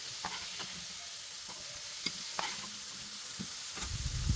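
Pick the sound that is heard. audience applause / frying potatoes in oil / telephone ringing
frying potatoes in oil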